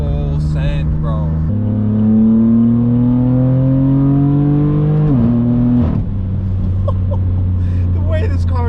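A straight-piped BMW M4 F82 with the S55 engine and DCT gearbox accelerates hard. A loud, steady engine drone climbs in pitch, drops at a quick shift and climbs again, close and constant the whole time.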